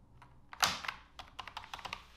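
Keys pressed on a membrane keyboard: a soft burst of quick, muffled taps, one firmer press and then a short run of light clicks, close and quiet with no voice.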